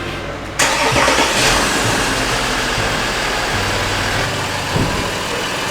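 A budget Bentley engine cranks and fires abruptly, then settles into a loud, steady idle with a slight rev bump near the end, close and unaccompanied by talk.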